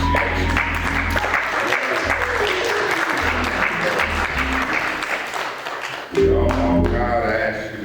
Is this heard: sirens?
no